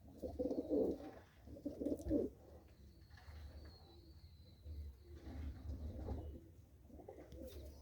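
Pigeons coo in low, throaty bursts that pulse on and off at moderate loudness, kept as a hobby, with a steady low hum underneath.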